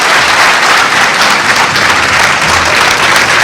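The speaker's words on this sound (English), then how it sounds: "Let's give them a round of applause." A school audience claps loudly and steadily, a dense close wash of many hands applauding Medal of Honor recipients at Springdale High School.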